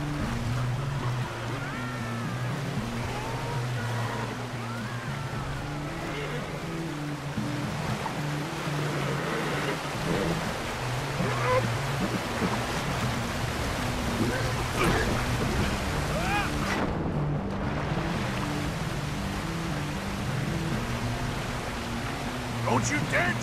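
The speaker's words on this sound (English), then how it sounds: "Look out, rapids." Rushing river rapids in Red Dead Redemption II, a steady broad roar of churning water that runs continuously and loudly throughout, with low rumbling beneath and no pauses.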